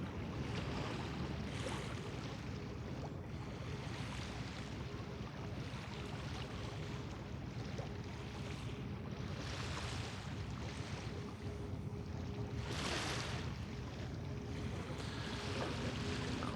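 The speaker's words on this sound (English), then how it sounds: "Big cruise ship. Making its way along the river." A big cruise ship moving along a river toward its dock, heard from a beach as a steady low rumble mixed with wind and lapping water, distant and continuous.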